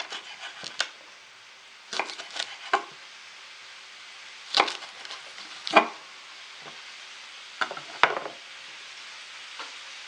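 Tuna frying over high heat in a pan, a soft continuous sizzle broken by irregular clusters of sharper crackles and clinks, fairly close and without talk.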